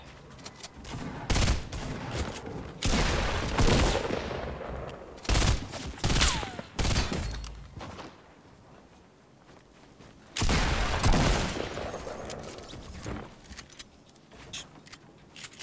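Fortnite gunfire in rapid bursts of loud shots, several volleys separated by quieter gaps, alongside game footsteps and movement sounds.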